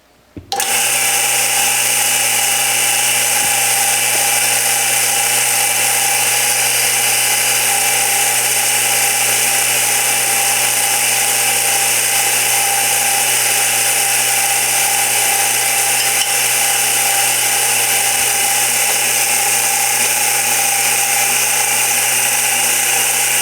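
A wood lathe starts up and runs steadily, with a sweet gum bowl blank mounted in the chuck: a loud, constant mechanical whine and hum with layered tonal drone, unchanging after the abrupt start.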